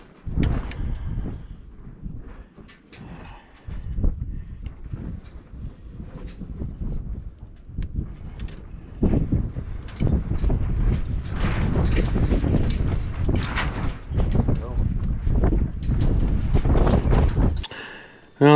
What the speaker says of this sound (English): now that the wind has died down